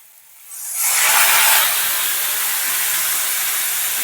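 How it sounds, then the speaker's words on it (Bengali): Spice paste of ground coriander and cumin sizzles loudly in a hot pan as water is added, a sudden steady hiss that swells, peaks, then settles into a continuous frying sizzle. "মশলাটা একটু হালকা করে কষিয়ে নিচ্ছি একটু জল দিয়ে দেব"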